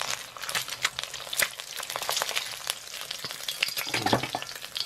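An egg fries in a pan for Thai pad krapow, crackling and spitting continuously with dense, irregular pops that stay loud and close throughout.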